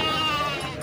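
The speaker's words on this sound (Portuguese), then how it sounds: "aqui tem mais um lote de ovelha aqui" A sheep bleats in a long, wavering cry that fills the whole moment, close and fairly loud, at a goat and sheep fair.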